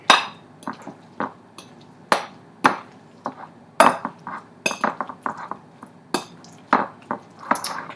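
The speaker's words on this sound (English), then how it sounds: "I have put the eggplant, the aubergine on top of the minced garlic and give it a good mix" Roasted eggplant is stirred into minced garlic in a bowl for Israeli-style baba ghanouj, with intermittent clinks and soft scraping taps of a utensil against the bowl, close up, in a loose uneven rhythm.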